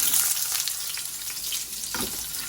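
Onion hits hot oil in a pan for Quorn chicken fajitas, giving a loud, immediate sizzle close up that holds steady for a couple of seconds, with no talking over it.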